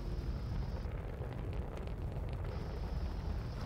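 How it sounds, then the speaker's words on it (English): Sustained loud rumbling roar of a rocket launch in the survival game Ark: Extinction, a broad steady blast with no voices over it. "A rocket just got shot off."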